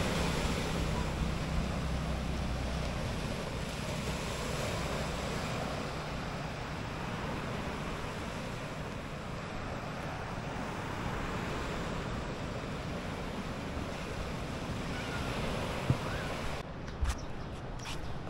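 Sea waves washing ashore at Aroma Beach in San Jose, Occidental Mindoro, a steady broadband surf roar mixed with wind buffeting the microphone, continuous throughout with a couple of brief knocks near the end.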